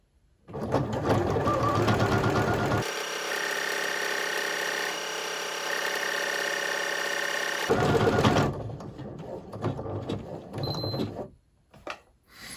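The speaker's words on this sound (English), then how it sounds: "So you just start stitching, and make sure your little doodad's down to create the buttonholes." A Bernette B38 sewing machine stitches a buttonhole: loud, close, rapid mechanical chatter, then a long, steady, even whir, then more chattering stitching before it stops on its own.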